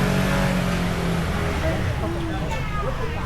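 A motorcycle engine revs on a street near a train station on a Cijin Island day trip, a steady, fairly close drone running throughout under people talking.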